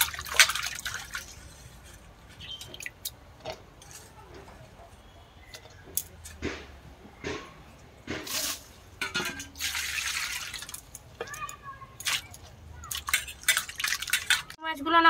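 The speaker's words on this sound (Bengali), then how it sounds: "ভালো করে ধুয়ে নেব চিংড়ি মাছগুলোকে দু তিনবার জল বদলিয়ে" Cut prawns being washed by hand in water, with repeated splashes, drips and sloshes, and a bowl or pot clinking now and then, close and intermittent, with no talk.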